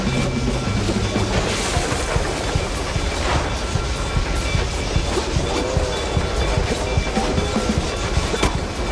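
A train rushes past in the video game Mouse: P.I. for Hire, a loud continuous rumbling roar with rattling, clattering wheels and a faint steady whistle-like tone throughout.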